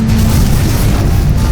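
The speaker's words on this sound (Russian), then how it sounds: "Пожалуйста, приготовьтесь к взрыву реактора." Reactor explosion in the video game Portal 2, a loud, sustained low booming rumble that fills the whole moment with no speech over it.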